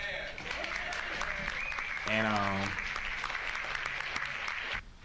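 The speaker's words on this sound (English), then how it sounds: "Clap it up for Grandma." A livestream audience claps and cheers for a grandmother's 100th birthday plans, a steady wash of applause running under a speaker's voice, with a brief sung or shouted note partway through before it cuts off.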